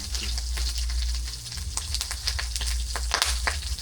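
Steady crackling sizzle of garlic frying in hot oil, with sharp pops and spits scattered throughout, close and continuous with no talking.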